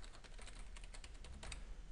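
Someone types a password on a computer keyboard, a quick run of soft, close key clicks in irregular rhythm, fairly quiet with no speech.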